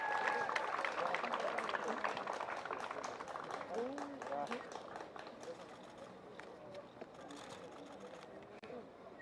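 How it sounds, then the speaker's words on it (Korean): An audience at a youth soccer tournament award ceremony claps for a player receiving a prize, the applause faint and distant, filling the space in a steady patter that slowly thins out. "많은 박수 부탁드립니다."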